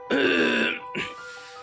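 A single close throat clearing, a rough rasp followed by a shorter second grunt, with no talking.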